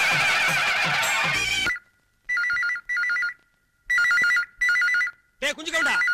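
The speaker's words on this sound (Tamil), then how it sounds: "போன் அடிக்கிறது எங்கடா போயிட்ட?" A telephone bell rings in four or five short warbling bursts with brief gaps, loud and close, after a noisy opening passage.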